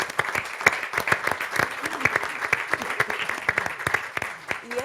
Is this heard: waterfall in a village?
no